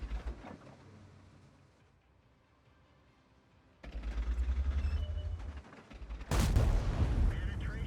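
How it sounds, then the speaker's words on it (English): A tank gun fires in World of Tanks after pre-aiming a corner: a loud, sharp blast hits late, preceded by a lower rumbling report and engine noise. "In this first test, I'm going to pre-aim the corner and then fire."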